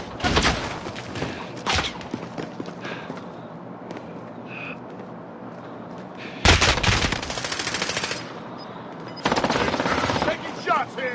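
Warzone video game gunfire crackles in bursts, with a loud rapid automatic volley around the middle and another near the end, mixed with game sounds and occasional talk.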